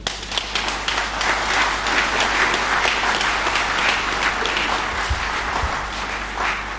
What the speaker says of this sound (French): je voudrais les remercier et vous demander à tous ici de les applaudir